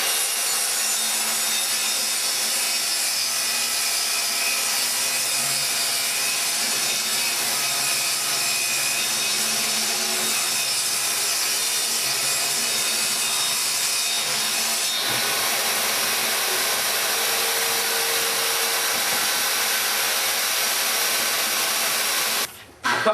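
A saw rips lengthwise through a wood cabinet side panel in one loud, continuous, steady cut lasting over twenty seconds, then stops abruptly at the end.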